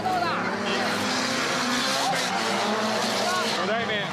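Drift cars from a night drift team event run a competition pass, with dense, loud engine roar and screeching tire squeal throughout, while a commentator talks over the noise.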